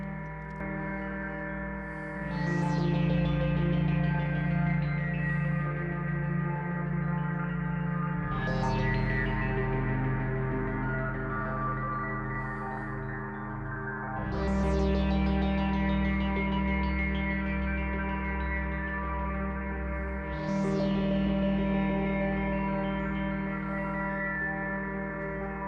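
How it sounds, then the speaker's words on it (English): An evolving pad from a Moog Matriarch synthesizer drenched in reverb, sustained chords shifting every few seconds with a sweeping filtered rise on each change, a long smooth tail and no talk. "Let's listen to some reverb."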